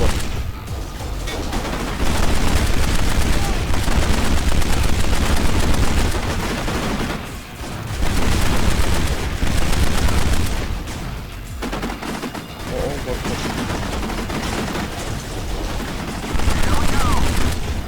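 Rapid gunfire bursts in the video game Kane & Lynch: Dead Men, dense overlapping automatic fire and booms in loud sustained volleys with short gaps, a voice talking over the shooting.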